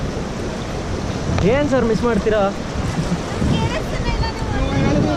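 Rushing water of the Kali River at Dandeli during a rafting trip, a constant loud wash of flowing water and wind with voices talking and calling over it partway through.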